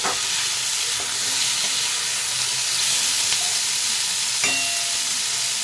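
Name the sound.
potatoes and onions frying in pan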